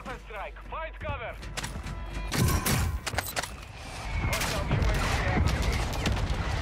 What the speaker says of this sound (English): And launch the mortar strike.